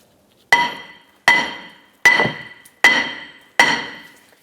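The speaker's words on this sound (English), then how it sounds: "I'm going to go ahead and tap the back side of the rotor to try and work this off." Five sharp metallic hammer taps on the back of a brake rotor on a 2005-2010 Chrysler 300, at an even pace, each ringing briefly before the next strike, close and loud with no talking.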